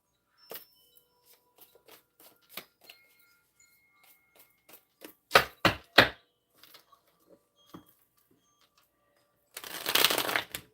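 Cards riffle and snap in a few quick bursts, with a longer shuffle near the end; light tapping and handling noises fill the quieter gaps.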